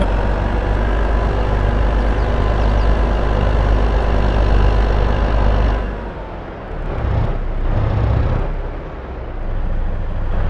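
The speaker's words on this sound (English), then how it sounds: "I'll just get this truck out of the way before it crashes into it." Truck engine in Farming Simulator 22, a loud steady drone that drops in level partway through, then swells and dips again as the truck moves.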